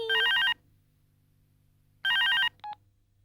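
A telephone rings in two clear electronic bursts about two seconds apart, the second followed by a brief higher tone, with quiet room hum between the rings and no talking.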